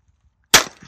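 A single sharp gunshot from a Sig Mosquito .22 LR pistol on a shooting range, a crisp close crack after near silence with a short decaying tail.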